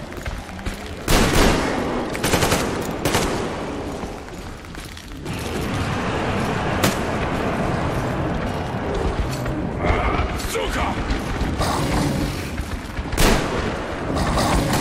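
Heavy gunfire against mutants in Metro Exodus, with bursts of automatic shots and booms over a dense, roaring battle din that runs the whole time, with no speech.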